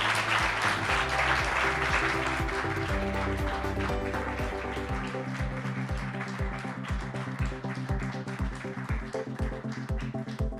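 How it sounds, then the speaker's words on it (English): Audience applause breaks out for SME Bank as the award winner is announced at a fintech awards event, dense and loud at first with music playing underneath, then thinning into scattered claps as the music continues with a steady beat. "And the winner is a round of applause for SME Bank."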